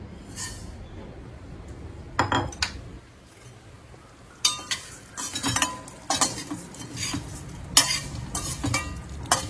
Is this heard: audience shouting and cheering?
no